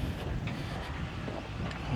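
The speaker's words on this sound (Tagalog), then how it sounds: "Mahangin dito guys." Steady wind buffets the microphone outdoors, a continuous low rumbling roar with gusty swells, no voices.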